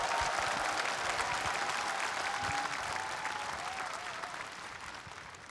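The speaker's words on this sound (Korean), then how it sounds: "다시 한번 큰 박수 부탁드리겠습니다." Sustained audience applause fills a memorial ceremony for late South Korean President Roh Moo-hyun on the tenth anniversary of his death, a dense, steady clapping from a large crowd that fades gradually toward the end.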